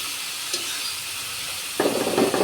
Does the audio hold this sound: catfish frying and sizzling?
yes